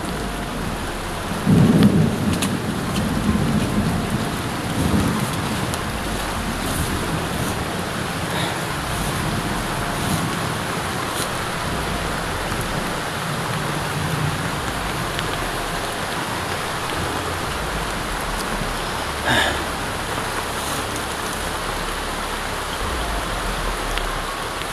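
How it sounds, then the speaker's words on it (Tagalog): Heavy rain pours down in a dense, steady roar, with a low rumbling thump early on and no voices. "Hindi ko gaano marinig ang mga paligid dahil sobrang lakas ng ulan"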